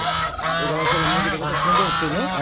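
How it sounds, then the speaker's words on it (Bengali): A flock of geese resting on a rooftop in the late afternoon honks continuously in loud, overlapping calls close by, with no talk. "এখানে রাজহাঁসগুলো অলরেডি বিশ্রামে চলে আসছে যেহেতু বিকালবেলা"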